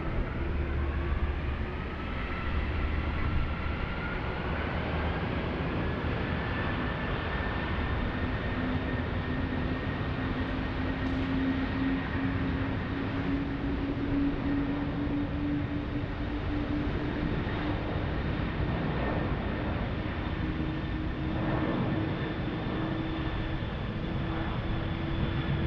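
A Singapore Airlines airliner takes off at Sydney Airport, a steady distant jet roar with a slowly rising whine that holds evenly throughout, heard from afar without talk.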